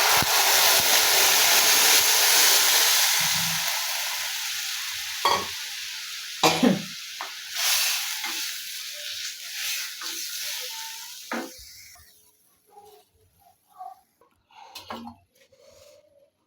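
A yogurt and gram flour mixture for a dahi curry hits a hot frying pan with a loud, broad sizzle that fades over several seconds, followed by sparse stirring clinks and scrapes.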